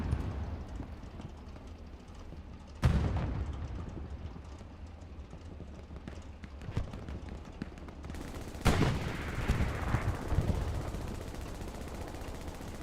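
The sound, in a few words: MG42 machine gun firing from a roof in Hell Let Loose (video game)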